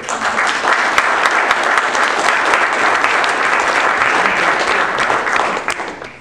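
Sustained, loud applause from a large crowd, steady clapping filling the whole stretch and fading slightly at the end.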